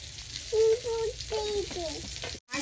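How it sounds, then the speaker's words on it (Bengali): Chapla fish fries in the oil left over from earlier frying, a close, steady sizzle with a few tonal squeaks from the pan on top and a brief cut near the end. "ভাজার যে তেলটা ছিল সেই তেলে আমি ছাপলা ভেজে নিচ্ছি"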